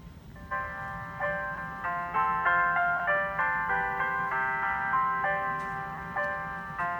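Tinny melodic hold music on a phone line after dialing 1000, a simple chime-like tune with steady plucked notes, faint and compressed, playing alone.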